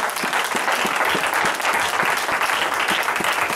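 A church congregation clapping for Jesus: steady, dense applause from many hands, loud and continuous throughout, with no talk over it.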